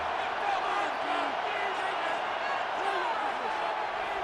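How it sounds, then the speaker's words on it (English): Stadium crowd in an American football video game, Raiders versus Broncos, forming a steady, distant roar of noise that stays even throughout with no distinct cheers standing out. "This crowd into it now as we get to 3rd down."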